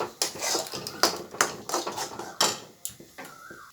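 A metal plate is handled in a home kitchen during cooking of a banana-flower dish, giving a series of close clinks and clatters at an irregular rhythm, with no talking.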